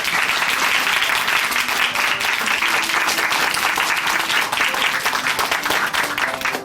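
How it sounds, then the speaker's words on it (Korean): Congregation applause at a Korean church testimony broadcast in Chuncheon, steady and dense throughout, a full hall clapping loudly without pause. "다시 한번 응원의 박수 보내드리겠습니다"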